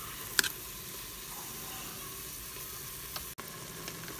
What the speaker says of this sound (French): on met donc une cuillère à soupe d'huile d'olive, les épinards et on remue pendant 4 minutes